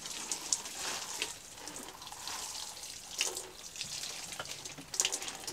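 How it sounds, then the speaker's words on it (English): Water splashes and trickles as potted-up tomato seedlings in a marked tray are given a good soaking, a soft continuous pouring close by with a few brighter spatters, no talking. "give them a good water."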